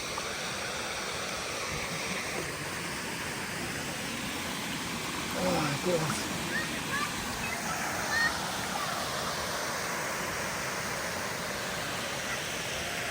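A steady, broadband rush of falling water from the Hurkalo waterfall in Lviv region, Ukraine, continuous and enveloping throughout, with faint voices briefly rising in the middle.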